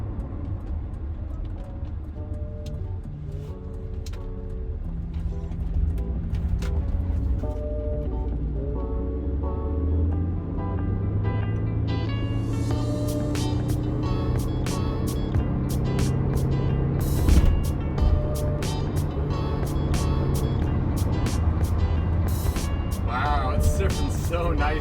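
An Audi A4 B7 with a CVT transmission and bald tires drives fast, its engine drone and road roar steady and loud throughout, rising in pitch toward the end with wind and tire noise.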